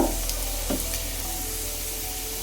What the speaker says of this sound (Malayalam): നല്ലപോലെ ഒന്ന് ജിഞ്ചർ ആൻഡ് ഗാർലിക്ക് കുറച്ച് മൂപ്പായിട്ടുണ്ട്